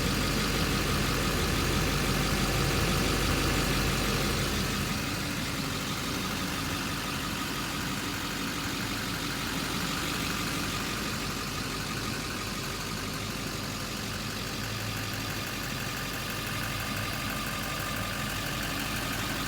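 A 2008 Chevrolet Silverado 2500 utility service truck's Duramax diesel engine idling, a steady, close rumble with a faint knocking clatter, slightly louder in the first few seconds, then even throughout.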